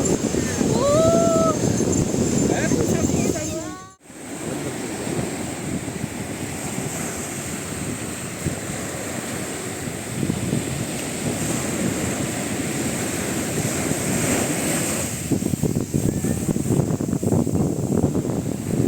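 Continuous ocean surf rolls and crashes close by at Marina Beach, Chennai, with loud wind buffeting the microphone; a brief dropout interrupts early on, and a few distant voices surface faintly.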